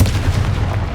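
A booming fiery blast from the Confringo spell in the video game Hogwarts Legacy, a loud, deep impact that fills the short moment with heavy low rumble and no voices over it.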